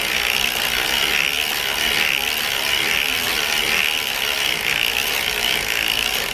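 A knitting machine casts on stitches with a steady, continuous mechanical clatter of carriage and needles, loud and close, running without a pause and with no voices.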